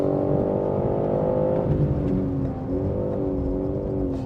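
A BMW M3 Touring race-track car accelerates hard out of the final corner of a circuit, its engine note rising steadily, dipping at a gear change and climbing again, loud and close from inside the cabin with no talk.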